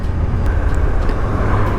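Honda CB500X motorcycle engine after dropping down a gear or two on a descent, a steady low rumble of engine and wind noise held throughout at close range.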